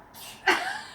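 A 13-month-old toddler imitates a sneeze with one short, breathy, close burst after a soft intake of breath.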